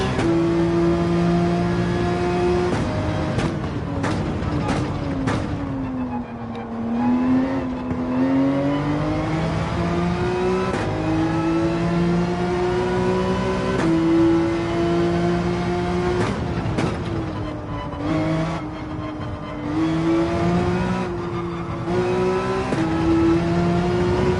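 A race car engine in Gran Turismo 7 on the Dragon Trail circuit, loud and steady, rising and falling through gear changes with sharp shifts and revs across a full lap segment, no talking.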